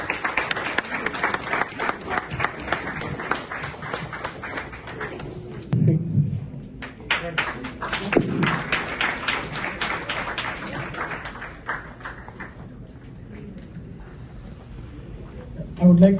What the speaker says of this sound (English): you please give him a big round of applause